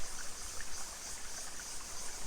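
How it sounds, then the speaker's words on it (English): Steady broadband rush of a small jungle waterfall about 15 to 20 meters high, heard from the top where it drops, a continuous dense hiss with faint insect-like chirps woven through, no voices. "And this is it, the top of the waterfall."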